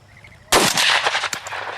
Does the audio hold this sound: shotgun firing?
yes